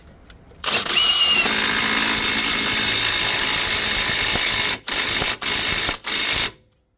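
A power tool tightens the front axle nut on a 2006 Infiniti FX35 AWD. It gives one sustained, loud whirring run of about four seconds, then three short bursts in quick succession, all close and with no voices.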